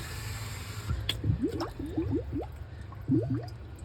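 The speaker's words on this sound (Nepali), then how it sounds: "यसरी हामी पानी हाल्दैछौँ है" Water being poured from a watering can or container onto a vegetable plot, giving a series of squelchy gurgling glugs and splashes in quick bursts, close and fairly loud.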